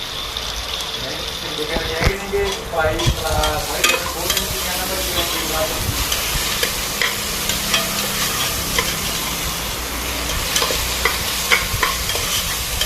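Capsicum stir-fried with onion and green chilli for macaroni, a steady close sizzle with repeated spatula scrapes and stirring clatter throughout, a voice speaking intermittently over it.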